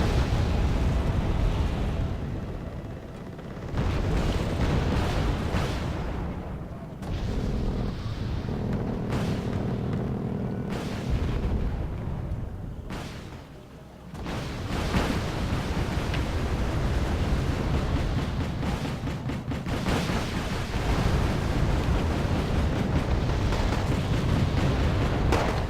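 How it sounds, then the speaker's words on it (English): Bombing runs in the real-time strategy game Wargame Airland Battle: a long chain of heavy, rumbling explosions rolling almost continuously, dipping briefly between waves of blasts, loud and dense throughout. "And bombing runs coming out."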